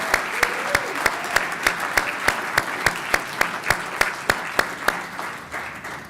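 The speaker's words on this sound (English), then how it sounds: "let's give ourselves one more round of applause" Applause fills a graduation commencement for a school of business, a dense crowd clapping steadily with a faint, regular rhythmic clap standing out, moderately loud and without speech.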